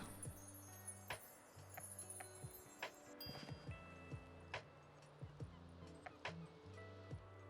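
In the Tiny Bookshop video game, a small dog gives short, yippy barks scattered at irregular intervals over a light background game melody, with faint clinking mixed in.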